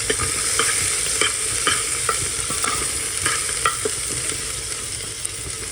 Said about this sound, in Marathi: आता आपण ह्याच्यामध्ये चणे टाकायचे आहे। आणि चांगलं परतून घ्यायचं पुन्हा।